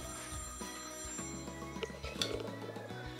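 A phone rings with an incoming call, a repeating bright electronic ringtone pattern sounding moderately loud throughout, with no talking over it.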